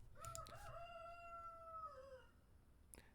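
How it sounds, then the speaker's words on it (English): A rooster crows one long drawn-out call, clear and fairly close, with its harmonics holding steady before trailing off, then a short burst near the end. "That rooster."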